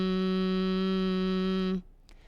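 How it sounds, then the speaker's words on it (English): A steady humming tone on a long exhale during a guided breathing exercise, rich and even with strong harmonics, held for nearly two seconds before stopping abruptly into near silence. "we, on our exhales, will make a humming sound"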